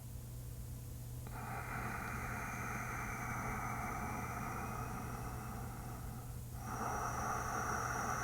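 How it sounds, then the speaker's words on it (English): Ujjayi yoga breathing with the mouth closed, an ocean-like hiss at the back of the throat drawn through the nose; a soft, steady breath sound over a low hum, one long exhale then a new breath starting. "we'll begin to add the Ujjayi sound, that ocean sound at the back of the throat."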